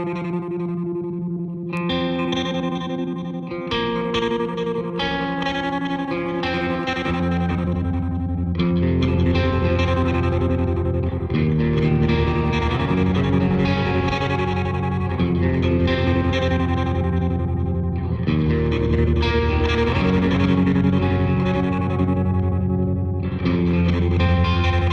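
An electric guitar runs through a BOSS DD-500 stereo delay pedal in a slicer-style mode, a dense, distorted, chopped and echoing wash of notes playing continuously at steady loudness, no voices.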